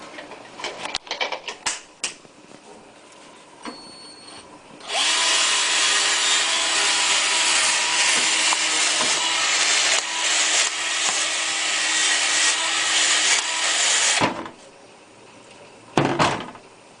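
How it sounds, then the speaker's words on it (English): A 12-volt battery-powered boilie gun for carp-fishing bait runs with a steady, loud motor whir for about nine seconds, preceded and followed by a few brief clicks and knocks of handling. "using the 12-volt battery charged boilie gun is attach the battery"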